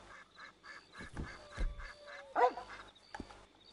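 A dog barks in Red Dead Redemption 2, a few short yelps scattered among the game's ambient sounds and a louder bark partway through, with no talking over it.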